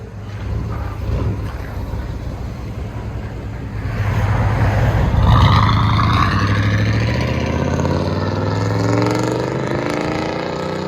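A 1991 GMC Sierra 1500 extended cab pickup with a 5.7L V8 and a Flowmaster Outlaw exhaust, 2 1/4 inch pipe and 3.5 inch rolled tip, idles with a deep burble, then revs up loudly and holds a strong roar before settling.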